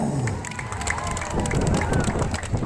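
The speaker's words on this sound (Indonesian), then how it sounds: "Sekali lagi kita tepuk tangan untuk Molo Utara." A crowd at a cultural parade of local tribes during a provincial tourism jamboree in SoE, East Nusa Tenggara, claps and cheers outdoors, giving a steady, dense wash of noise with an announcer's voice over it.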